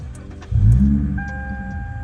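A 2011 Lexus IS350 F Sport V6 engine fires up on push-button start, a short cranking whir jumping into a loud low rumble that settles into a steady close idle, with a faint electronic tone above it.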